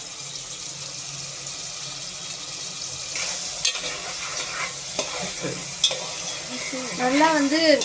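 Ingredients sautéing in a pan for mutton biryani, cooked to golden brown, give a steady close sizzle with repeated stirring scrapes, and a few louder scrapes and clatters near the end.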